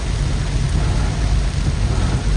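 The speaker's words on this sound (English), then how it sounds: "It's a beautiful rainy day." Heavy rain on the Linden Highway in Guyana, heard from inside a moving vehicle as a dense, loud, steady roar with deep rumbling underneath, no voices.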